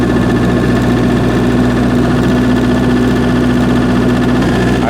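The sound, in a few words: MEP 803A generator engine starting and running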